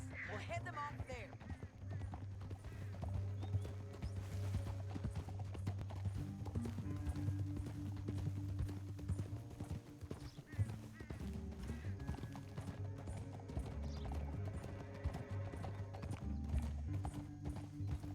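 Horse hooves clip-clopping steadily in the Red Dead Redemption 2 video game, with an occasional whinny, heard at a moderate distance under a constant bed of game ambience.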